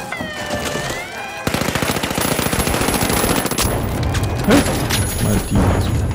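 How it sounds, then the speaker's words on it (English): Rapid gunfire bursts in the online shooter game THE FINALS, a dense rattling stream of shots with intermittent heavier blasts, loud and continuous over game effects and tones. "benda tu shotgun ni"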